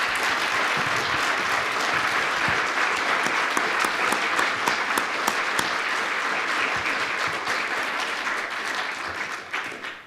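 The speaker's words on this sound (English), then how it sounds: "a round of applause for our speakers today" An audience at a Veterans Day event applauds the speakers, sustained clapping from a crowd that holds steady and then gradually fades toward the end.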